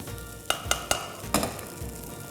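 Schezwan fried rice with sauce and vegetables is tossed in a hot wok, giving a soft sizzle broken by four or five sharp scraping, clattering hits of the pan and spatula.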